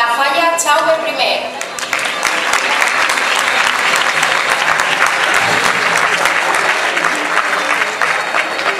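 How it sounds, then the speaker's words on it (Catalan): Loud, sustained applause from a crowd at a Falla Jaume I exaltation ceremony, dense clapping that runs on steadily after a brief opening spoken introduction. "Despedim amb un fort aplaudiment a la Falla Jaume I."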